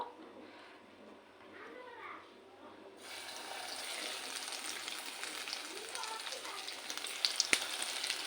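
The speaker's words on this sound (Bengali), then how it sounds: "তেলটাও খুব ভালো মতো গরম হয়ে গেছে। একটা একটা করে এখন তেলে ছাড়বো।" Brinjal slices frying in hot oil, a faint hiss that suddenly swells into a dense, steady crackling sizzle, with a few sharp pops near the end, close and moderately loud, under a quiet voice.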